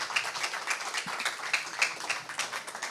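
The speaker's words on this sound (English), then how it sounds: "can I have another huge round of applause for Mr." A panel audience at Casa México, SXSW 2019, claps steadily throughout, many hands beating in quick irregular bursts at a moderate distance, fairly soft overall.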